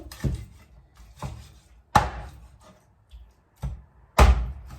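A knife chops chicken into pieces on a board for a curry, giving five or six sharp, separate thuds at an irregular pace, close and fairly quiet.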